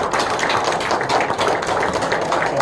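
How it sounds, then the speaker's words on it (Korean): Applause from a meeting audience at a founding general assembly in a district office audiovisual room, a steady dense patter of many hands clapping throughout with no voices over it. "박수까지 쳐주시니 고맙습니다"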